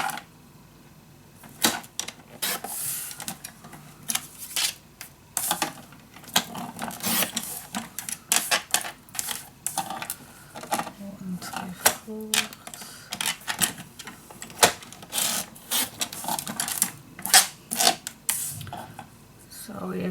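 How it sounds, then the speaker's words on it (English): Paper scoring board in use on craft paper, giving a steady run of dry clicks and scraping strokes in irregular bursts, close and fairly loud throughout. "So if the scoreboard is making a lot of noises"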